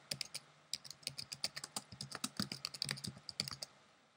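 Keys tapping on a Mac computer keyboard form a quick, irregular run of crisp clicks, close and clear and heard alone.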